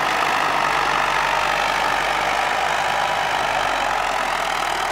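A YuMZ EO-2621V tractor-based excavator runs close by, its diesel engine holding a steady, loud idle throughout with no break and no voices.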